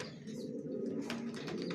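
Grizzle racer pigeons, a breeding pair, coo softly and steadily close by in a quiet setting, with a few brief flutters and scuffles over the low murmuring call.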